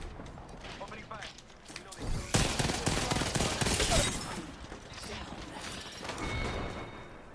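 Video game gunfire: a loud burst of rapid shots erupts after a quieter stretch, followed by fainter bursts and mechanical clatter, with muffled voices underneath.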